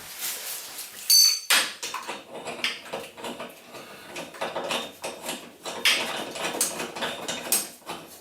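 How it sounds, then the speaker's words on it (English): Bath taps tightened by hand, giving a run of close, light clicks, knocks and ratchet-like metal creaks scattered irregularly through the whole stretch, with no talking. "You only need to tighten by hand really, don't need anything more than that."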